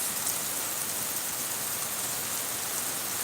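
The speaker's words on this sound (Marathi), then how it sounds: "पावसाची जोरदार अशी सुरुवात झालेली आहे" A heavy downpour begins in Bidkin, Chhatrapati Sambhajinagar, a loud, dense, unbroken roar of rain hitting the ground and surfaces, with no voices over it.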